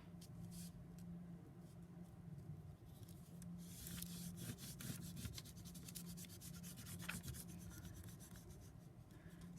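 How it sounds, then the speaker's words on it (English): A crayon or pencil is rubbed over paper laid on a cardboard collagraph plate, giving a faint, continuous scratchy scraping in quick back-and-forth strokes over a low steady hum. "Let's see what it looks like when you make a rubbing of it."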